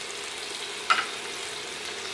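Butter hitting a hot pan beside a seared ribeye steak gives a steady, faint frying hiss, with one brief sharper sizzle burst near the middle.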